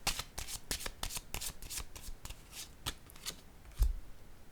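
A deck of tarot cards shuffled up close, producing a brisk series of loud, papery riffles and snaps that repeat steadily and end with a firm knock.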